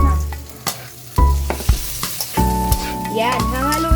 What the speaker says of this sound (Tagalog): susunod ko naman itong mga repulyo upang matapos na